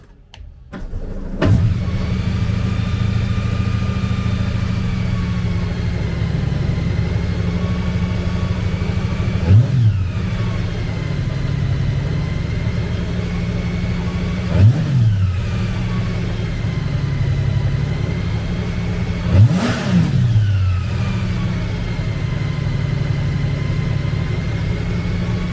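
A 2023 Honda GL1800 Goldwing Tour with its 1,833cc six-cylinder engine runs at a steady idle throughout, with three brief throttle blips rising and falling at regular intervals, heard up close and without talk.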